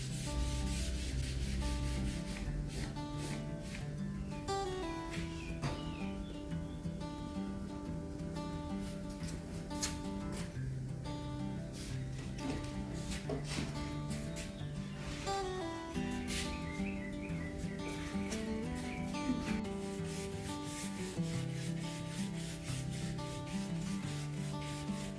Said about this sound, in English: Endwise with the brush, depending on how it's pulling, makes it easier to spread the stain